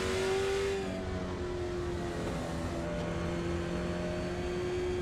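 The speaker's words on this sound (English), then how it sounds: "Either he is not happy or his transmission or engine is not happy for Jack Wood, that number 91." Race car engine in the iRacing sim at Southern National Motorsports Park, a steady mid-pitched drone holding near one tone with a slight shift early on, continuous and fairly loud with no talk.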